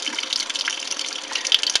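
Water flows in a steady broadband rush as it clings to and runs along the underside of a glass, a continuous close splashing with small bright spatters near the end.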